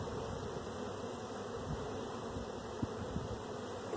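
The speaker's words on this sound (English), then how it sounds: "Still a yellow jacket." A yellow jacket wasp buzzes near beehive frames being pulled for a cell builder, a thin steady drone that holds across the whole stretch, with a few faint knocks of the frames in the background.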